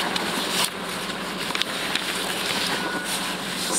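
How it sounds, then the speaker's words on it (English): Broad, steady rushing noise with low buffeting rumble, strong cold, rainy wind battering a microphone, with a few faint knocks and no talking. "It's very windy today, and cold and windy and rainy"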